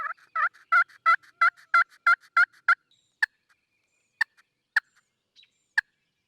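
Wild turkeys gobbling at daybreak from around a pine-tree hunting blind: a loud run of about nine rapid gobbles close by, then a few sharper isolated calls spaced farther apart as the woods wake.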